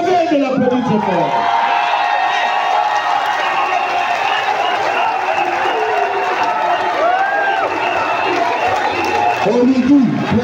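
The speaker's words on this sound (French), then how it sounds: "je vous demande de vous lever et de l'applaudir très fort" A large crowd at a political declaration applauds, cheers and whoops continuously, loud and dense throughout, with voices shouting in unison amid the clapping.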